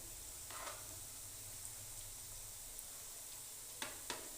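Chickpea koftas fry in ghee with a faint, steady sizzle, broken by a few soft clicks and taps as they are turned in the pan, quiet and without talk.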